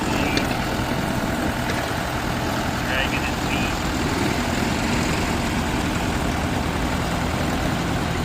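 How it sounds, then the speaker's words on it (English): A 1965 Deutz D65 vintage tractor engine idling at a vintage tractor show, a loud, steady low rumble that continues without a break. "JD brought us his 1965 D65 Deutz."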